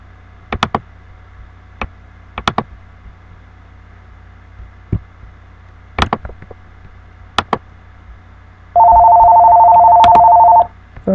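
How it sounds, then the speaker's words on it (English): A telephone rings with one sustained electronic tone burst lasting about two seconds, loud and close, after a series of sharp scattered clicks and taps over quiet background hum. "Phone's ringing, I'll be right back."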